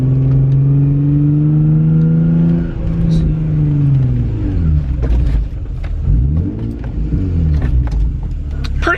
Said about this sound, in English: I'm just gonna test the brakes and hopefully